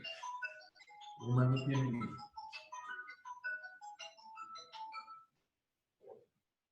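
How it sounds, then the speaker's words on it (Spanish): A mobile phone rings during an online thermal systems class, a faint, tinkly melodic ringtone in a steady pattern of bright notes, with someone briefly talking over it near the start. "tengo un teléfono ahí sonando"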